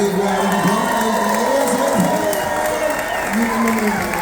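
An audience aboard a cruise ship applauds and cheers, a continuous dense roar of clapping with whoops and raised voices, loud and sustained throughout, with talk mixed in.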